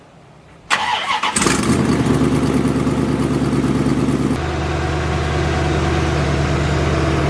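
A Corvette with a repaired exhaust cranks and fires up, then settles into a steady, loud, close idle with a deep rumble and no talking.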